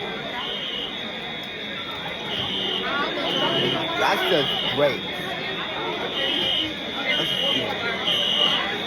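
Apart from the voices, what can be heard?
school fire alarm during evacuation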